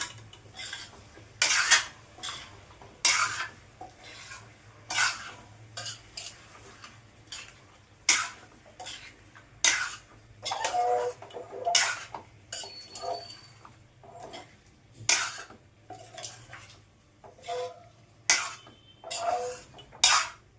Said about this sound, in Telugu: గరం మసాలా పౌడరు తగినంత ఇది బాగా కలయి పెట్టేసుకొని